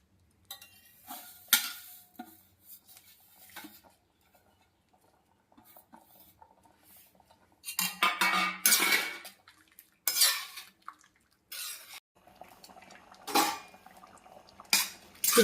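Fried semolina being stirred into boiling water in a pot, with intermittent scraping and clinking of a utensil against the metal, in short bursts separated by quiet pauses, close and fairly loud with no talking.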